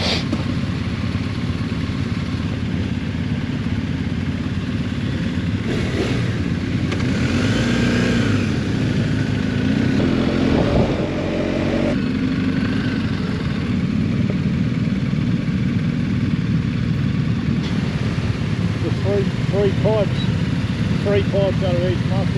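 Around 30 BMW motorcycles gathered for a shop ride idle together in a continuous rumbling drone, with occasional revs rising and falling, while people talk nearby.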